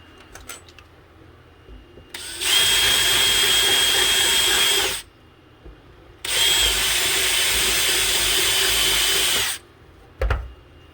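A power tool reams out tight holes in a wiring box for an ice-fishing power kit, in two loud bursts of about two and a half and three seconds with a short pause between, close up and alone.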